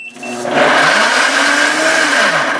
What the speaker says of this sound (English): This will run the blender for 1 minute under the pulse.